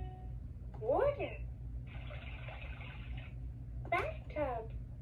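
A short rush of running water, a bathtub-filling sound effect from a 2007 baby learning laptop toy, sits between chirpy, voice-like toy sounds and a low steady hum.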